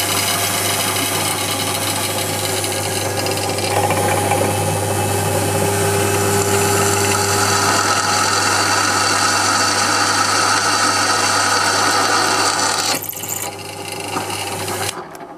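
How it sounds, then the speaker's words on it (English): A 6mm drill boring into the battery box of a Ducati SS600 motorcycle: a loud, close, continuous motor whine held for many seconds before easing off near the end. "it's a 6mm drill"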